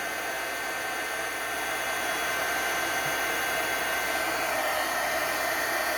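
A handheld heat tool blows hot air to melt embossing powder, making a steady, loud, close-up whooshing hiss like a hair dryer that runs unbroken throughout.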